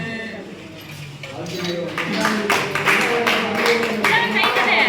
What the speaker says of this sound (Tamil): கைத்தட்டு சாமி கைத்தட்டு